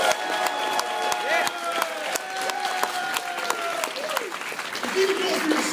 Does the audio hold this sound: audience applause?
yes